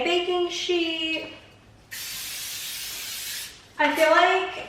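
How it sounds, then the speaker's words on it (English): Cooking spray hissing onto a baking sheet in a home kitchen, one steady two-second burst, loud and close, with talking just before and after. "I'm gonna just spray a baking sheet."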